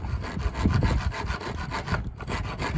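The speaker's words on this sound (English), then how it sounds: "this is a very rough rasp" A very rough rasp shaping the wooden body of an electric guitar, a close run of about a dozen quick, scratchy back-and-forth strokes, loud and even, with a short pause near the end and no voices.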